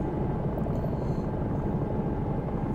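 A Bell 222 helicopter rotor in the X-Plane 11 simulator, flying a London air ambulance: a steady, loud, low churning thrum that runs without a break.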